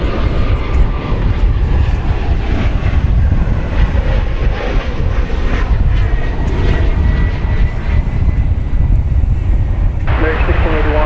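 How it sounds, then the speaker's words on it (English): An airliner landing at DFW Airport roars loudly and steadily, with heavy engine noise and wind buffeting on the microphone throughout. "Okay, the flight from Veracruz has touched down."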